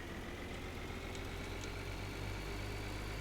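Tractor engine in Farming Simulator 2013 running steadily while being driven, a continuous low mechanical drone with a faint whine, no talk over it.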